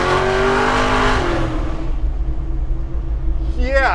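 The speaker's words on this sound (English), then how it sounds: "That's the way to get it fired up." The Hellcat-powered 745 hp Chevy C10 pickup fires up with a loud, deep engine roar that holds, then drops to a lower rumble. Voices can be heard over the engine.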